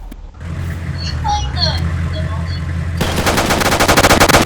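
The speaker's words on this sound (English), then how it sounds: "The allies are just shooting our tank right now." Machine gun fire hammering a tank in the World War II shooter game BattleGround WWII, a loud rapid burst starting partway through after engine rumble and a speaking voice.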